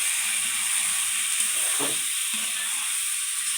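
Bottle gourd frying in a pan as it is stirred, a steady bright sizzle with soft scraping and clicks of the spatula partway through, close and even.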